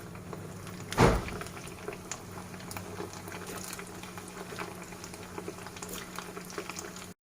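Spinach koftas fry in hot oil, a soft continuous bubbling with scattered faint pops and a single louder knock near the start, quiet and close with no voices.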